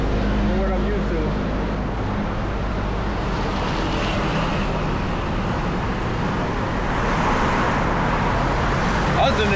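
Busy street traffic in Bangkok, Thailand: a dense, continuous roar of passing vehicles with steady low rumble, loud and close throughout, without clear individual events.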